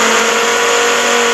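A car reverses in Taxi Sim 2022, producing a short, steady synthetic engine drone with a bright whine on top, continuous and loud for a moment.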